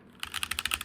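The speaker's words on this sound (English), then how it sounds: "They've got red linear switches for mine, because I wanted quiet." A HyperX Alloy Origins 60% keyboard with red linear switches is typed on: after a brief quiet start comes a quick run of about eight close, crisp key clacks in an even rhythm.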